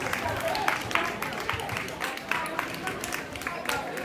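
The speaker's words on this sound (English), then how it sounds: "André, sous vos applaudissements." A crowd applauds, irregular claps rising and falling in bursts, with some talk mixed in beneath.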